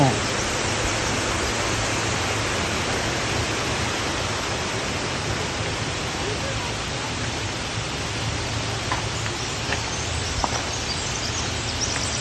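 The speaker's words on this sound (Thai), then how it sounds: "ตรงนี้ก็จะเป็นอีกฝั่งนึงที่น้ำตก ไหลลงไป แล้วก็จะมีน้ำอันนี้ที่มาไหลออกมาจากท่อ" Waterfall at Whatcom Falls in Washington spilling down beside a walking trail, with water also running out of a pipe, a steady dense roar filling the whole clip without pause.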